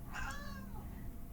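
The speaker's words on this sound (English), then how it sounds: "Sorry, that was my cat." A house cat lets out a single drawn-out meow near the start, clear and fairly close, then trails off into quiet room tone.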